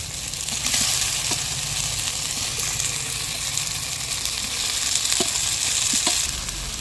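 Potato pieces going into a frying ginger-garlic-onion spice paste for a Bengali village-style potato and egg curry, a steady close sizzle with occasional light stirring clicks and scrapes, no talking.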